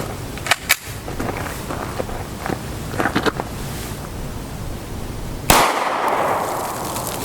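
5.7x28mm 34-grain PFP rounds fired through a chronograph at 10 feet outdoors, a few sharp separated shots with ringing decay and one louder blast near the end, under light wind.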